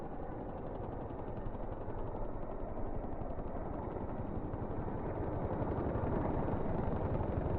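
Helicopter in the flight simulator game DCS World, a continuous rotor and engine drone with rapid blade chop, steady and moderately loud, alone without talk.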